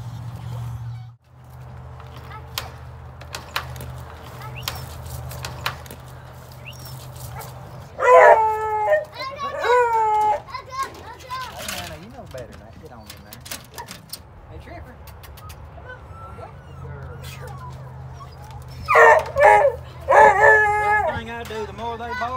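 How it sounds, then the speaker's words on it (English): Rabbit hunting dogs in Alabama baying and yelping in bursts, loud close barking clusters around the middle and again near the end, with quieter gaps and a low outdoor rumble between them. "The more they bark, the later I have to put them in the box."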